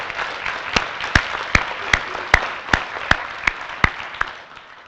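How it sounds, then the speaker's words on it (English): Audience applause at a winter graduation ceremony for an alternative high school program, sustained clapping with distinct loud individual claps punctuating it at a steady rhythm, fading slightly at the end. "Will you stand so we can give you a round of applause also?"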